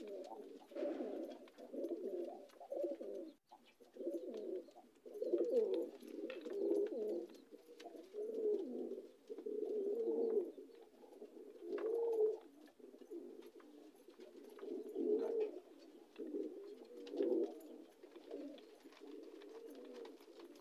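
Racing pigeons coo repeatedly at close range, a series of soft, throaty, rolling calls in an uneven rhythm, each lasting about a second with short pauses between, on an otherwise quiet background.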